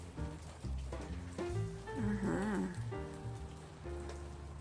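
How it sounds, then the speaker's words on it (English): Heavy rain pours down outside a kitchen in Texas, a steady wash of close, loud patter with some faint tonal sounds drifting over it. "It's raining, it's raining."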